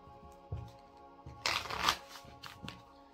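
A Moonology manifestation oracle card deck being shuffled: soft papery riffles that swell into a dense, louder flurry midway, then trail off into a few lighter flicks, with no voices.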